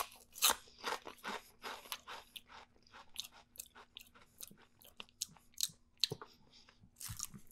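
Fetty Wap rap snack chips are crunched close up in steady, repeated bites and chews, loud and crisp against a quiet background.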